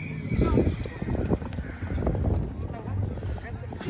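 A large horse whinnies and hooves clop on the ground amid crowd chatter and shouting voices nearby at a jalada de pollos festival in San Sebastián Etla, Mexico.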